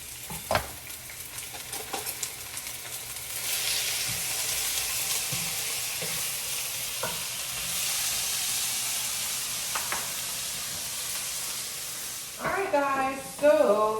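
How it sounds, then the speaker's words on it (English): Vegetables sautéing in grapeseed oil in a pan make a steady, soft sizzle with occasional stirring knocks, swelling slightly in the middle, before a voice briefly speaks near the end. "I'm just going to add some grapeseed oil to my pan and saute these vegetables until they become a little bit tender and translucent"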